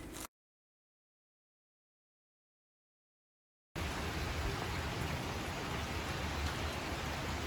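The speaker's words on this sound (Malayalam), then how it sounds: "ഇന്ന് ഇവിടെ നല്ല മഴ പെയ്തുകൊണ്ടിരിക്കുക" Steady rain pours down outside a house, a dense, even hiss of drops that starts after a brief burst and long silence, then continues loud and unbroken to the end with no voices.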